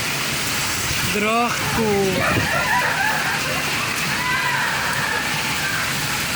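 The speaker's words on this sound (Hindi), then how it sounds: "बहुत तेज़ बारिश है।" Heavy rain pours steadily in a steady hiss beneath a voice, with a rooster crowing a few times in the background.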